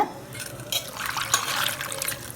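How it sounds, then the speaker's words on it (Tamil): Dried anchovies being rinsed by hand in a bowl of water, giving close, continuous sloshing and splashing with small bursts, no talking. "ஒரு ரெண்டு மூணு டைம் அலசிட்டேன் இப்போ அலசி நம்ம போட்டுக்குவோம்"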